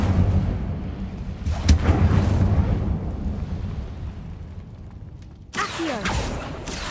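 The Incendio fire spell in the video game Hogwarts Legacy bursts with a booming whoosh and crackle, followed by a sustained roaring rumble that fades, then another sharp blast near the end.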